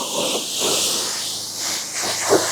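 A Kränzle pressure washer nozzle sprays a car's surface during mobile detailing, making a loud, steady hiss close by that swells and eases slightly as the nozzle moves.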